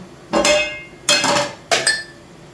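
Three sharp metallic clanks ring out as a crepe frying pan is handled, each followed by a brief ringing tail, close and clear.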